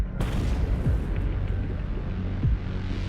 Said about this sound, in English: A drone sent to destroy them causes a powerful explosion at the site.